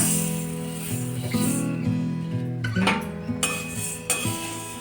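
Coriander seeds roast in a hot kadhai, dry seeds rattling and clinking against the metal as they are stirred, with scraping of a utensil running steadily throughout, close and fairly loud.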